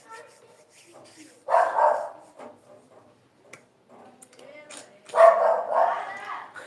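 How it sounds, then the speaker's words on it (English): Dogs barking a few times in a neighbourhood with children around, in two short bursts of moderate loudness between quieter stretches, with faint background sounds. "The dogs again"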